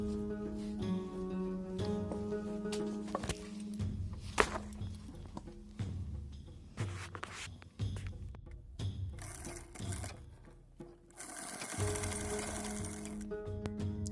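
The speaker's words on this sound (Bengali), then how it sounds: "আর এই যে এবার সাইডটা সেলাই করছি" A sewing machine stitches the side seam of a blouse in a village home, running in bursts of rapid mechanical whirring with brief pauses and clunks between runs, close and steady.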